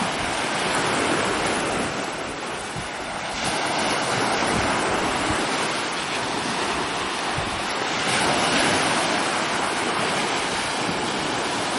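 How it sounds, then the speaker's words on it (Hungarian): Sea waves breaking and washing along a seashore in the morning, a steady broad surf roar across the whole stretch with gentle swells in loudness and light wind buffeting the microphone; no voices. "Most meg bejöttünk reggel a tengerparthoz"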